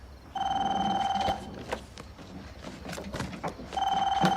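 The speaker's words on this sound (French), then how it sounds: "Réponds au téléphone, tu vois bien que je suis occupé" A telephone rings in two clear, close bursts of electronic bell tones, with a quiet pause between them.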